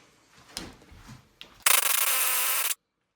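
A 1/2 inch air impact tool works on Toyota Supra differential parts, opening with a few light handling knocks before one loud, steady burst of hammering that lasts about a second and stops abruptly.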